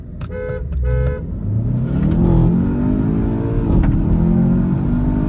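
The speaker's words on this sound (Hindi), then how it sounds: "गाइस रोलिंग रेस कर रहे हैं, 20 की स्पीड पे 2 मारूंगा मैं।" A BMW 530d and a Skoda Octavia vRS accelerate hard in a rolling drag race, opening with two short horn toots before engines rev and climb through gear changes, loud and close.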